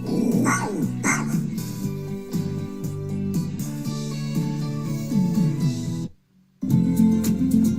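Dog barking repeatedly, loud and close, in rapid yips and bow-wows with some whimpering, continuing after a brief pause near the end.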